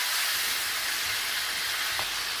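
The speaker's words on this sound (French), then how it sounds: "je fais revenir mes crevettes à peu près 2 minutes" Shrimp sautéing in a frying pan make a dense, steady hiss of sizzling oil, loud and unbroken for the whole stretch.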